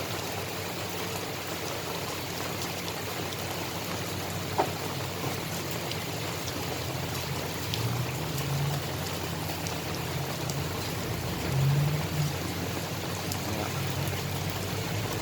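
Steady broadband hiss of rain falling, constant and fairly loud throughout, with a low engine-like hum underneath and no talking.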